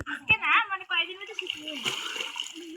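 A child splashes and paddles while learning to swim in a village pond, brief watery splashes mixed with an adult's voice and a voice close by.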